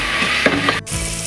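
Curry leaves frying in hot oil for a Mangalorean fish sambar, giving a loud close crackling sizzle with a stir partway through and a brief break before the hiss resumes.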